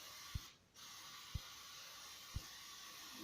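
Cooking spray hisses into a baking pan for biscuits, a faint, steady spray under low background noise, punctuated by three soft evenly spaced clicks about a second apart.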